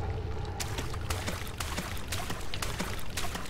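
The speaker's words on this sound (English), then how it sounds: "Pouring water in." Water pours and trickles in a dark, watery underground setting in Amnesia: The Dark Descent, a steady close rush with low rumble and scattered splashes, with no talking.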